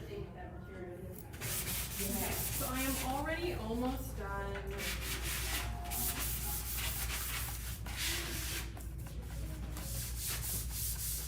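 Someone hand-sands a wooden headboard, making a steady, close rasping rub throughout while someone talks over it.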